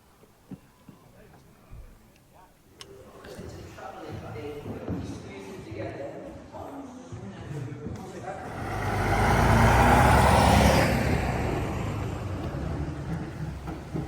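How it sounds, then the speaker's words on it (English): Old vehicles at the Beamish open-air museum, including trams and buses, rumble past: a heavy engine roll swells from the middle, peaks loudly, then eases. People talk over the quieter opening. "A really fun aspect of Beamish is all the different vehicles going around, from trams to buses"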